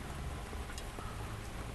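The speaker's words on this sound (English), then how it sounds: "now that the rain started." Steady rain falls during an outdoor thunderstorm, a dense continuous hiss of drops without a break, with no clear thunder crack in this short stretch.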